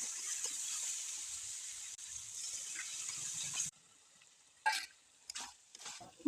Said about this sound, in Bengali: ভালো করে আলুর সাথে মশলাটাকে কষিয়ে নিতে হবে যাতে মশলার কাঁচা গন্ধটা চলে যায়